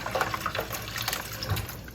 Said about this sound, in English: Add a little more water just so I can get the top of these submerged.